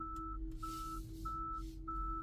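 A 2022 Long Range Tesla Model Y gives warning beeps because trailer mode is off while something is mounted on the back. Four evenly spaced electronic beeps sound over a steady cabin hum, close and clear.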